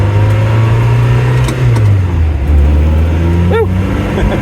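A Renault Sport Spider engine hums loudly from inside the car on the road, its pitch sliding lower partway through as the revs shift, with a brief chirping squeak near the end.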